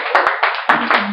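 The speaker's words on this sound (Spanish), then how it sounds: "Vamos a darle un fuerte aplauso al Mesías." A small congregation claps at a Nazarene Passover memorial supper, with a few loud close hand claps in uneven bursts.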